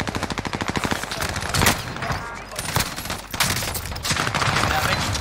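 Rapid automatic gunfire in a battle-royale shooter game, dense bursts of loud repeated shots with some single cracks, close and continuous, while a voice talks faintly underneath.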